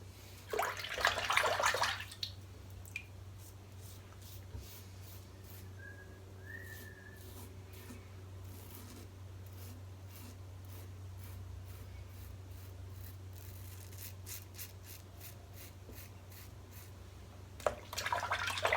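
Safety razor fitted with a brand new Perma Sharp blade scraping across lathered skin, with short bursts of close strokes at the start and end and quieter light scraping in between.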